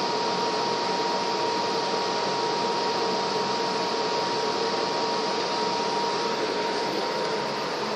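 An SM-767-A air purifier runs with a steady, loud broadband whoosh of airflow and a faint constant hum, unbroken from start to finish with no voices.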